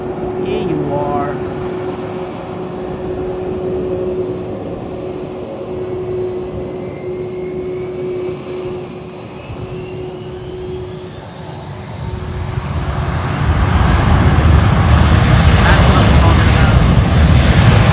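A JetBlue jet airliner passes an airport at San Juan, with a distant engine hum that swells into a loud roar over the last few seconds, while a person talks quietly over it.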